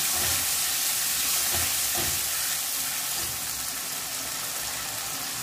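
Masala with turmeric paste, chopped tomato and salt sizzles in a pan with a continuous close, hissing fry. A few faint spoon strokes sit under it, and no one speaks.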